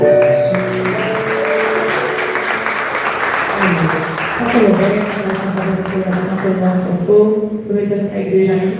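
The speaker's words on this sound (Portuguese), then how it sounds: "aplaude mais uma vez o nome do Senhor Jesus." A church congregation applauding during a worship service, a sustained wash of clapping from a crowd mixed with voices and singing over the whole stretch.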